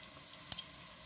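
Sucuk sausage frying in a pan with onions, a soft steady sizzle with one small click partway through, quiet and heard on its own.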